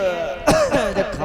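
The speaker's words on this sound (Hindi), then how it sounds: "खांसी" A man gives a short, harsh cough followed by a couple of smaller coughs, close and clear, in an Indian comedy scene.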